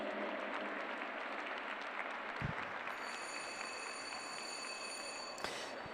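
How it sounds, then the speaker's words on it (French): Steady, dense applause from a large crowd at a show jumping event fills the whole stretch, with a brief thump near the middle and a bright tone entering later. "on va avoir le plaisir d'entendre vos applaudissements retentir"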